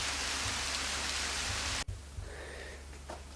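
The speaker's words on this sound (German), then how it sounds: "Es regnet richtig stark." Heavy rain pours steadily outside a cave, a dense, loud hiss with a brief sharp break partway through, then continuing more softly.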